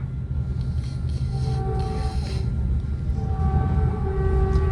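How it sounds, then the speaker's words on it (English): Caltrain commuter train arriving at San Mateo station, heard from on board as a loud continuous rumble with rising wheel-and-brake tones and a faint horn-like whine, no talking. "It's Caltrain 425 now arriving San Mateo."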